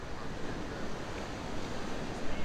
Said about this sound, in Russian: а можно слушать волны